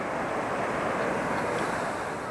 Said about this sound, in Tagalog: Ang lakas ng alon, ang saya.